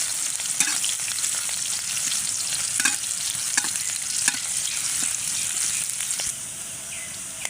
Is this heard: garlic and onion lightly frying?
yes